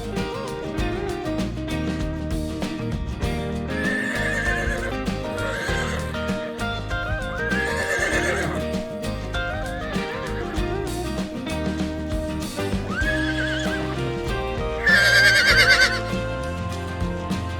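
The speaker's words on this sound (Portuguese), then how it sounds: "Cavalos são fortes e rápidos." A horse neighs several times with rising whinnies over continuous rhythmic clip-clop of hooves, set against a full musical background, the loudest whinny near the end.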